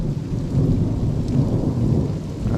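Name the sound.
severe thunderstorm thunder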